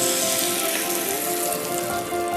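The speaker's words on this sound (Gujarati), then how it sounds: "હવે આપણે અહીંયા 500 ml દૂધ એડ કરીશું." Milk poured into a pan of bottle gourd cooking in ghee sets off a steady, close hiss and sizzle that holds alone throughout.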